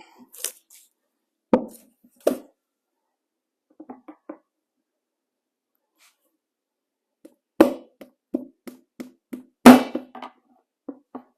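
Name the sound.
punching drainage holes through a plant pot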